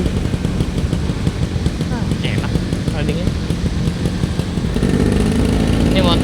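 A freshly rebuilt two-stroke automatic scooter, an early motor-matic model, runs with a smooth, steady mid-pitched engine drone, close by and continuous, with faint chirpy noises mixed in.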